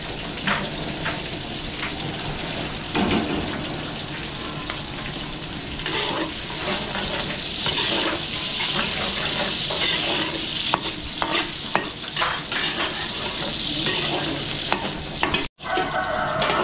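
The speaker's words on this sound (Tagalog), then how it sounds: "Bawang sibuyas mga belly, papupulayin muna natin." Garlic, onion and pork belly sizzle steadily in a pan while being stirred, with broadband frying hiss running throughout, scattered spoon scrapes and clicks, and a brief cut near the end.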